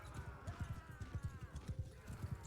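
Horse hooves clip-clop in a steady galloping rhythm throughout, close and prominent, with faint game ambience and a brief whinny-like tone in Mount & Blade Bannerlord II.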